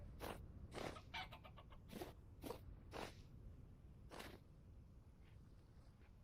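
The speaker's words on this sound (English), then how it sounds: "Beautiful little chickens." Chickens in the Vintage Story video game give a handful of short, separate clucks, spaced irregularly over a steady low background wash.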